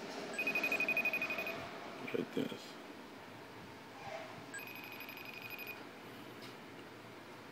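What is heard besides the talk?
FaceTime call ringing on iPhone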